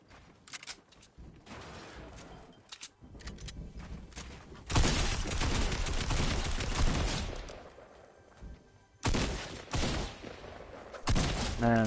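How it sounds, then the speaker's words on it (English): Bursts of gunfire in the Fortnite video game, rapid automatic fire and shots that come in loud clusters with short gaps between volleys, with no talk over them. "Is somebody shooting at you?"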